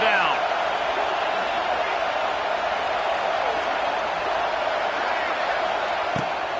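Stadium crowd at a UGA college football game roaring on third down, a steady, distant wall of noise with a commentator talking over it.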